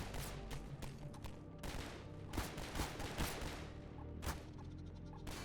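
Rapid bursts of gunfire from guards in Half-Life 2, with repeated sharp shots and volleys over a dense, busy game soundscape, loud and close throughout.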